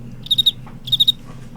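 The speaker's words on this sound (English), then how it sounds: "I'll throw crickets in there." Two bursts of three quick cricket chirps each, bright and clear over a low steady hum, with a short pause between the groups.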